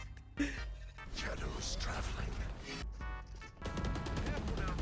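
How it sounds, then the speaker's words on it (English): Enemy gunfire in the video game Valorant rattles in near-continuous automatic bursts that fill the moment, loud and dense with brief pauses, as a voice speaks over it. "Look at them shooting"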